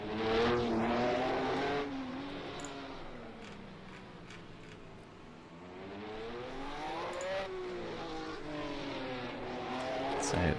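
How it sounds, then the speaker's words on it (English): 1967 Matra Formula 1 car in a sim racing game on the Monte Carlo street circuit, its engine braking down into a chicane and then revving back up with a wailing, rising note, loud and steady throughout. "That Matra looks very nippy coming through the chicane"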